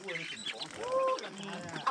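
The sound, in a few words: ducks quacking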